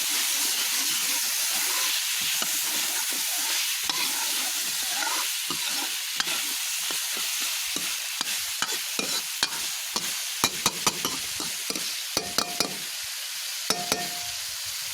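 Potatoes stir-fried in tempered oil give a broad, steady sizzle, with a run of sharp spatula taps and scrapes against the pan growing more frequent toward the end.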